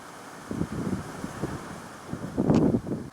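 Strong wind buffets the microphone in uneven gusts, rumbling and roaring, with a louder surge near the end, in a garden after rain.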